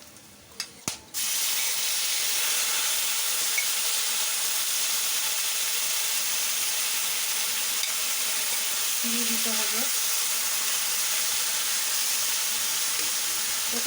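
Mustard seeds and panch phoron spices crackle and sizzle in hot oil for a mango chutney, a steady close fry after two sharp knocks at the start, with no talk.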